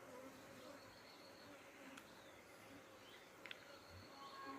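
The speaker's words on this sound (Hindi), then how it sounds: "ये है एफिस सिरेना इंडिका प्रजाति की मधुमक्खियाँ है ये" Honeybees of the species Apis cerana indica buzz steadily on a hive frame, a soft continuous drone heard up close with no one talking.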